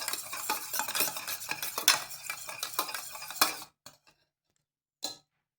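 Beaten egg whisked with a spoon in a metal bowl for an omelette, a steady, close scraping and clinking rhythm for several seconds that stops abruptly, followed by a couple of faint taps.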